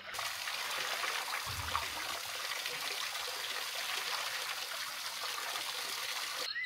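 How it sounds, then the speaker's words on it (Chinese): Running water pours steadily into a bucket holding freshly gathered river snails, a continuous broadband trickle and gush close by that fills the whole stretch, with no voices and a brief low thump early on. "开点水，开点流水"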